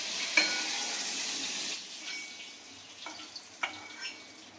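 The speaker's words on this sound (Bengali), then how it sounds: "ইলিশ মাছের ডিমটা ভাজা হয়ে গেল" Hilsa fish roe frying in a pan gives a steady bright sizzle, loudest in the first two seconds and then easing off, with a few light clinks of a utensil against the pan near the end.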